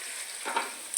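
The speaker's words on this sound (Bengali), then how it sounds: "পেঁয়াজ ভাজা হচ্ছে," Onions frying in a pan give a steady close sizzle, with a brief stirring swell midway and a sharp scrape at the end.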